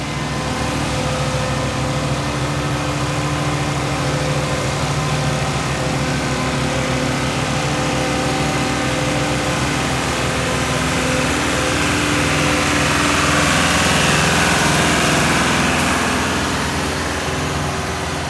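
The engine of a concrete pump runs steadily while piers are filled at the bottom of a hill, a loud, continuous droning hum with no clear change over the whole stretch and no voices.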